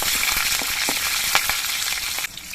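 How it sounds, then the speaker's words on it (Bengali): Nigella seeds and slit green chilies frying in mustard oil give a close, crackly sizzle with rapid popping spatters and light stirring taps, then fade abruptly at the end. "কালো জিরে আর কাঁচা লঙ্কাটা কয়েক সেকেন্ড ভেজে নিতে হবে"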